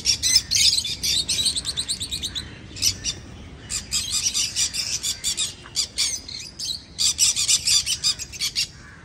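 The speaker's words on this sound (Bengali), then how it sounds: "কিছু মুহূর্তে পাখির আওয়াজগুলো শোনো।" Birds in a garden at Bharatpur chirp and call close by, rapid bright trills and squawky bursts in repeated runs with short pauses between them, over a faint background hush.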